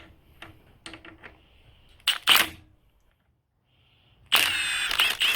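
A Milwaukee M18 FUEL 18V 3/8 in. mid-torque impact wrench, set to auto shutoff mode, works on a small 7/16 in. nut. A few light clicks lead to two short rattling bursts, then a louder sustained hammering burst of about a second at the end.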